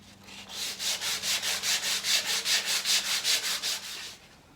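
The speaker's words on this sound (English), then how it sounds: "So I'll just sand these down, get them to where we want them." Wood offcuts are hand sanded up to 220 grit with about fifteen steady, even back-and-forth strokes, a close, breathy scraping rhythm heard alone.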